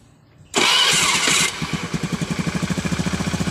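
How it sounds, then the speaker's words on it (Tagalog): A Beat motorcycle engine cranks and catches with a loud burst, then settles into a steady, rhythmic idle putter. "So start na natin yung motor natin."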